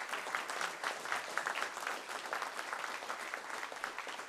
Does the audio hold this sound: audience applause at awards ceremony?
yes